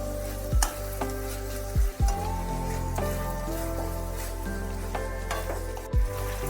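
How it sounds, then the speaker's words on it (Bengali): Spiced flat beans and mourola fish stirred in a sizzling pan, a spoon scraping and knocking the pan a few times over a constant crackling fry, close and clear, with no talk. "একটু নাড়িয়ে চাড়িয়ে নিচ্ছি মশলাটা, যাতে পুরো শিম আর মৌরলা মাছের গায়ে লেগে যায়।"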